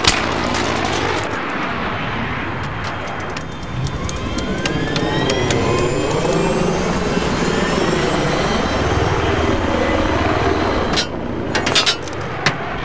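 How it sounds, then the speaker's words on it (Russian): An enemy fighter jet roars loudly and continuously in a military video game, with sweeping whines over a dense rumbling drone, then a few sharp bursts near the end. "Вижу истребитель противника в вашем районе."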